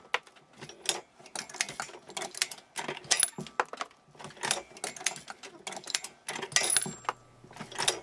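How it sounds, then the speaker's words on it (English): A Lee bullet feeder mounted on a Hornady Lock-N-Load press feeds bullets one after another, producing bursts of metallic clattering, rattling and clicks with short pauses between them, close and clear. "Now we start feeding the first bullet"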